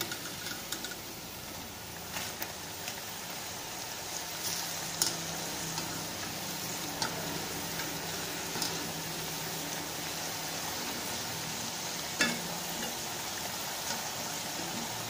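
Potato finger fries fry in hot oil, giving a constant close hiss and sizzle with scattered small pops and crackles throughout.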